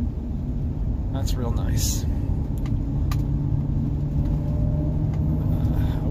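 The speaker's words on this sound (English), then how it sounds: "So we're on a bumpy road, and I'm not hearing a rattle." A Chevy 3500 pickup truck drives over a bumpy road, giving a steady loud low rumble from inside the cab with occasional light knocks, while a person talks briefly.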